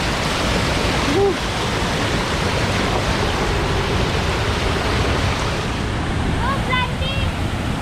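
Steady, loud rush of a waterfall pouring into a deep natural pool in the Philippines, a continuous broadband roar throughout, with a brief faint exclamation from a person partway through.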